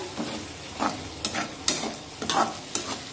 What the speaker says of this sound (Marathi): आता हे सर्व मसाले व्यवस्थित मिक्स करून घेऊया। छानपैकी परतून घेऊया।